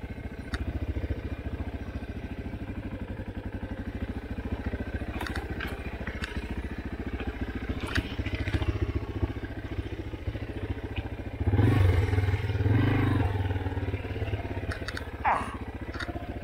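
A full clearance dirt bike slogs through a muddy trail at Walker Valley, its engine chugging and popping steadily with a brief louder surge partway through, with people talking faintly in the background.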